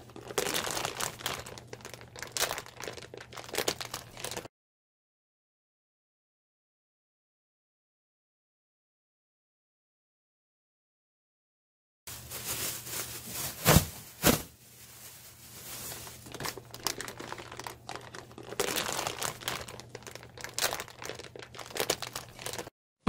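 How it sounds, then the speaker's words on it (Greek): A plastic trash bag is cut and handled while a mushroom liquid-culture setup is prepared, giving bursts of crinkling and rustling, then a long silent gap, then more crinkling and crunching close by. "Θα ετοιμάσουμε μια νέα σακούλα, μια καθαρή, φρέσκια πλαστική σακούλα σκουπιδιών."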